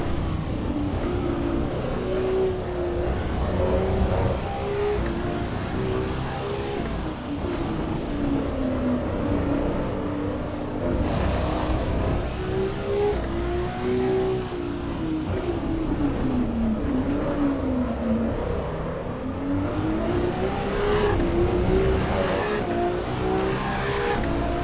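A Ferrari race car in the Assetto Corsa Evo racing game, its engine droning steadily with the pitch rising and falling through gear changes and throttle shifts, a close continuous tone running the whole length with no talk.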